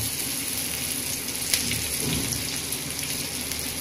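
Besan-stuffed bitter gourds (karela) fry in a pan as they are turned, making a steady, dense crackle like rain on a surface, fairly loud and continuous with no voices.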